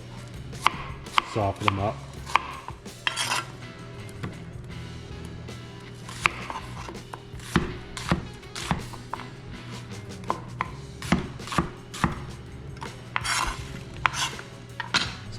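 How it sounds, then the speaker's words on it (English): A knife roughly chopping onions on a cutting board, with sharp, irregular thuds coming up close and clear throughout, a few brief spoken words mixed in. "We'll cut up a couple onions. Just a rough chop."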